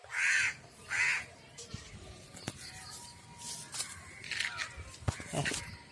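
A crow gives two loud, harsh caws at the start of an outdoor evening scene. Quieter rustling, scattered clicks and soft background sounds follow.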